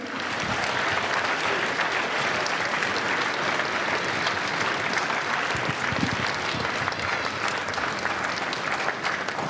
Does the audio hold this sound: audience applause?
yes